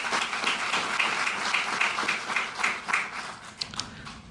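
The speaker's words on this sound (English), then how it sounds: "one round of applause for Astrolab" Moderate applause from an audience at a NASA event on permanent human presence on the Moon, honoring a lunar vehicle provider; steady dense clapping continues for several seconds with no talk over it.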